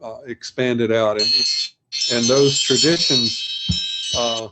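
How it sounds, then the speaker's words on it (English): A timer alarm beeps steadily and fairly loudly during an indoor talk, sounding continuously under a man's lecturing speech. "that was just my alarm to say if I didn't stop talking by then"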